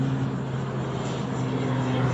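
An ATR turboprop aircraft at Dublin Airport gives a loud, steady propeller drone with a constant low hum that holds evenly for the whole stretch.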